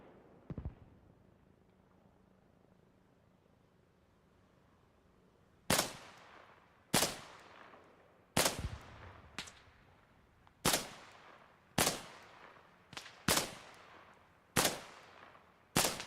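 Gunfire in a milsim video game: after several quiet seconds, a series of about ten sharp, loud shots crack out at irregular intervals of roughly a second, each with a short ringing tail.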